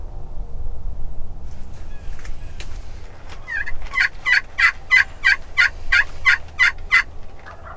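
Wild turkeys gobble in a rapid run of about a dozen bursts from some distance away, faint but distinct over quiet outdoor ambience, following a few scattered earlier calls.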